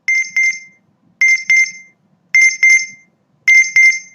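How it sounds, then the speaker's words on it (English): A low battery alarm chirps in four evenly spaced pairs of sharp, loud electronic beeps with silent gaps between them, clean and close with no voices. "So this is a low battery alarm"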